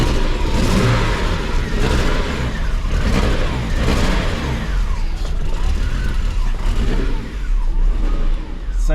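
A 1985 Jaguar XJS 3.6 engine, low on fuel, runs loudly and roughly, revving and dipping unevenly as it struggles to hold an idle, close by throughout.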